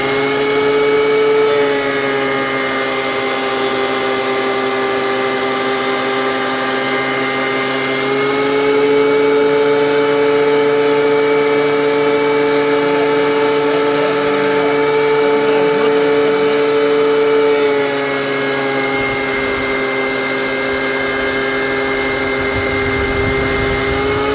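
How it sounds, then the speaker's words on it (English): A wood planer hums steadily, loud and close, with strong tonal harmonics that hold through nearly the whole run and dip briefly near the end. "Here we go with the planer."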